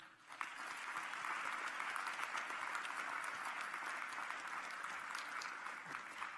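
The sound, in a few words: applause at a graduation ceremony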